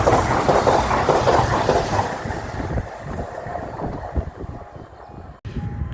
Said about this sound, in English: CrossCountry diverted service from Manchester Piccadilly to Bournemouth.